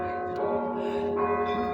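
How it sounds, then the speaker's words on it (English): Church bells ring from a bell tower inside the Moscow Kremlin, apparently a recording, with a steady sustained metallic tone and overlapping harmonics filling the moment, no voices over it. "Wow, we're gonna get to hear the bells."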